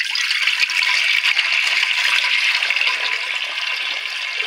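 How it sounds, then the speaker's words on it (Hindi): Two liters of water gush and splash steadily into a cooking pot for chicken yakhni, a loud, continuous close-up pour that fades slightly at the end. "इसके अंदर 2 लीटर पानी ऐड करेंगे।"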